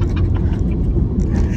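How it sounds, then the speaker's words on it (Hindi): A car engine shifted into neutral idles with a steady, loud low rumble that continues without a break, with no talking over it. "तुमको गाड़ी का आवाज आया"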